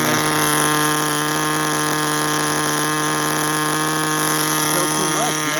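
A Tamiya TGS-R nitro RC car engine idles fast and loud, a steady high-pitched buzzing whine with strong harmonic tones holding constant throughout, close by with no voices.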